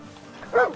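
A single short dog bark or yip from the dog companion in Far Cry 6, close and fairly loud, rising briefly out of a quiet background.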